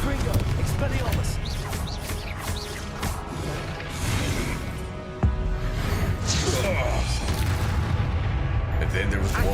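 Confringo blasting spell explosions in the Hogwarts Legacy video game, a dense barrage of bursts and crashes with one sharp blast midway, layered over continuous game music and effects.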